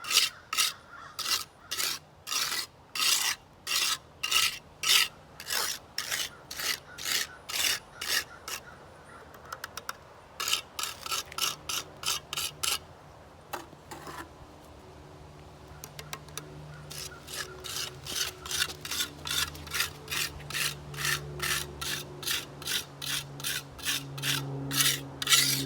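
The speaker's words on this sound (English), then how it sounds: "I'm trying to feather this with my sponge." A sanding sponge is rubbed back and forth over a wall patch to feather it, rapid rhythmic scratchy strokes in bursts with short pauses, close and alone.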